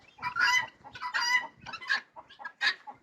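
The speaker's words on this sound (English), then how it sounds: "We have a mature chicken birds on the top section." Mature chickens cluck inside a farm chicken house in loud, close bursts of rising and falling calls separated by short gaps.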